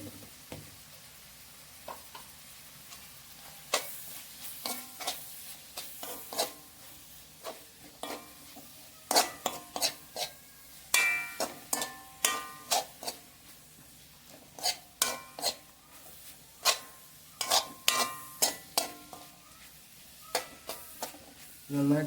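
Beef roast with chili and coriander powder is stirred in a hot pan: a low sizzle underlies frequent sharp scrapes and clinks of a spoon against metal, coming in irregular bursts for over twenty seconds.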